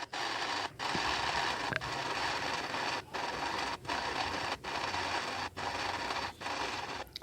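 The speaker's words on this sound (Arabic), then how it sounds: "هناخد بقى الكمية كلها نضربها كده" A Raffal mixer machine whirs loudly and continuously while blending a sausage meat mixture, with a few short dips in its motor hum, close and alone.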